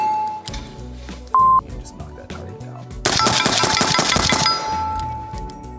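A PSA JAKL rifle chambered in 300 Blackout fires a rapid string of loud, sharp reports lasting about a second and a half, preceded by quieter handling noises and a brief electronic tone.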